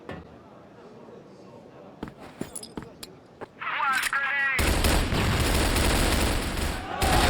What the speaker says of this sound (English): Shots opened up, Shui tearing them asunder.